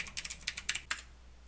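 Quick bursts of keystrokes on a computer keyboard while entering text into an Apple IIe adventure game, a brisk irregular run of about ten clicks that stops abruptly, close and clear over a faint steady hum.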